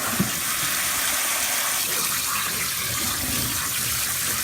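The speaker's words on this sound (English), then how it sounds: "once you drain it into your strainer, you want to rinse it off with cold water" Cold tap water pours steadily over pasta in a strainer, a constant rushing splash with no break throughout.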